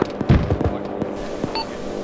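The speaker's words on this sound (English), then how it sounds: "Guns." Guns fire during a military integrated training exercise, with a quick series of sharp, irregular bangs that sound close and loud, then a fainter report and the hum of the field around them.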